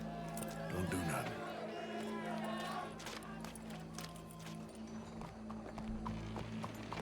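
Horse hooves clip-clop steadily in the open-world western game Red Dead Redemption 2. Voices talk over the hoofbeats, with a crowd murmuring and background game sounds throughout.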